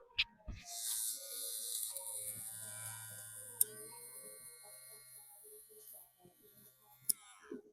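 A prototype electric shaver with a magnetic levitation blade buzzes close to the mic for several seconds, with a couple of sharp clicks, then fades to a faint hum.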